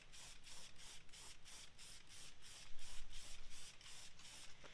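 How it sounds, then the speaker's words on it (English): Wheel cleaner is sprayed onto the face of a car wheel with a trigger sprayer, about a dozen evenly spaced hissing squirts in quick succession, close and moderately loud, with no talk. "So now that we got the barrel done, we'll spray down the whole face."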